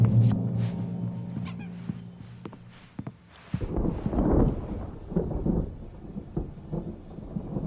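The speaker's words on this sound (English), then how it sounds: "There's a storm coming. Oh, what a storm." Storm thunder in the video game Alan Wake, a low rumbling roll that swells in the second half after scattered thumps and footsteps, moderately loud with no speech.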